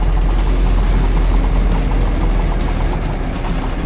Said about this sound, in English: Can't believe how well this carburetor seems to be adjusted and running, dirty as that fuel was.